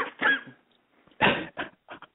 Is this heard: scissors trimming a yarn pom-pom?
no